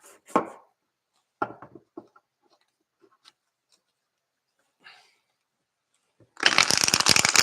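Tarot cards being shuffled: a few sparse taps and riffles, then a dense, rapid flutter of cards near the end, close and fairly quiet.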